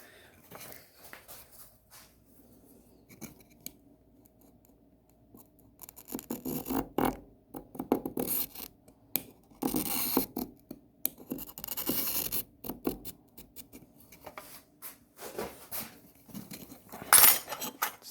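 A carbide tooth from a circular saw blade scrapes lightly across glass in short, faint scratches scattered over the span. Louder clinks and scrapes come through near the middle, with a sharp burst near the end.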